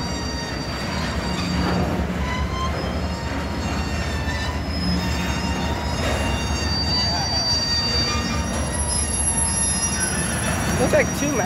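CSX intermodal freight train I143, with a rare EMD ST70AH T4 ACE as a distributed power unit, rolls past with loud, continuous wheel squeal and steady rail rumble for the whole stretch.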